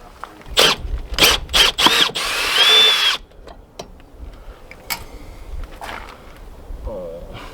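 A power drill backs Phillips screws out of an RV water heater, several short whirring bursts and one longer run up close, then quieter clicks and handling noises.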